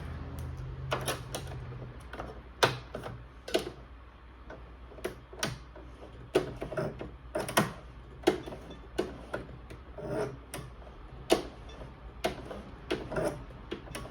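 Household sewing machine making a mechanical noise, a run of sharp clicks and knocks at irregular intervals over a low steady hum, close and moderately loud, with no speech.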